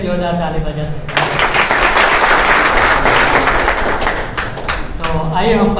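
A church congregation at a morning worship session claps loudly for about four seconds, a dense burst of applause framed by brief speech at the start and end.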